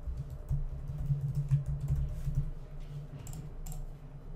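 Keystrokes on a computer keyboard as short text is entered during a software design tutorial, a quick run of close, light clicks over a low steady hum, with no one talking.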